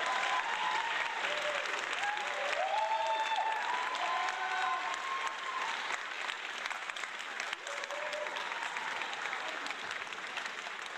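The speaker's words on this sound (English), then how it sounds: "please join me one more time here in a round of applause for our students and panelists" A seated audience at an evening CEO roundtable event gives a sustained round of applause for students and panelists, dense steady clapping throughout with a few faint voices murmuring underneath.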